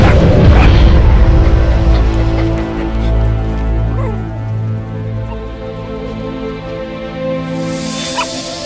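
A young puppy in the Metal Gear Solid V: The Phantom Pain video game gives a few loud close barks, then drawn-out whimpers and whines that fade softly over a low game background.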